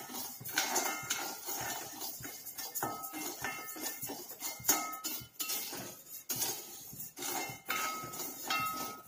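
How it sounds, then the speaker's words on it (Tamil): Raw white rice dry-roasting in a pan for Thiruvathirai kali: a steady, dense scratchy rattle of grains shuffled against the metal, with frequent small clinks of a utensil, close and continuous, no voices. "இப்போது அரிசியை வறுத்துக்கிறேன்"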